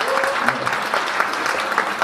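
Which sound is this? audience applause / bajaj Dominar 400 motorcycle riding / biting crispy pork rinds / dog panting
audience applause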